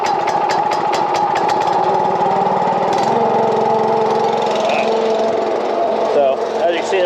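A farm tractor engine running steadily just after starting, a loud close mechanical drone with a rhythmic knock and rattle, chugging on without pause while a voice talks over it.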